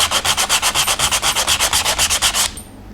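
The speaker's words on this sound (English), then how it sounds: "So you're just sanding the edges," Rhythmic back-and-forth scratching of sandpaper on wood, about a dozen quick even strokes close up, then stopping abruptly.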